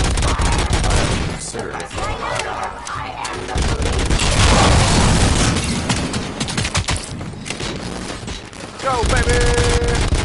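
Loud, dense gunfire in RoboCop: Rogue City, with continuous bursts and booms filling the scene, while someone talks excitedly over the shooting.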